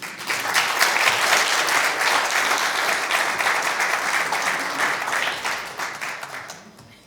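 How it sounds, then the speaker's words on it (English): Sustained applause from a workshop audience for a speaker at a health awareness event, steady and full for several seconds before fading away at the end. "Can we give Danielle another round of applause?"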